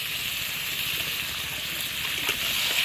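Lote fish, Bombay duck caught in the Sundarbans, being rinsed, with water splashing and gushing in a steady wash; the sound is moderately close and there is no talk.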